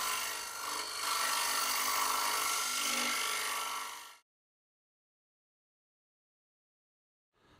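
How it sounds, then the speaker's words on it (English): Wood turning a bowl on a lathe with a mushroom tool, a steady loud scraping hiss of the cutter against the spinning wood for about four seconds, then abrupt silence. "the mushroom tool can access deep under the rim of the bowl."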